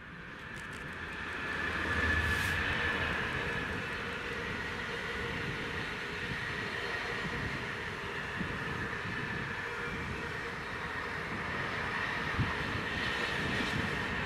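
A train passes on a British main line near Crewe, a faint, steady rumble with rail rattle sustained throughout, heard from some distance with no voices.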